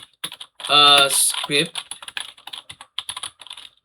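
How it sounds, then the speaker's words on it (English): Keys clatter on a computer keyboard in quick, light, irregular clicks, close and clear, after a brief burst of speech near the start. "let's type in here to write"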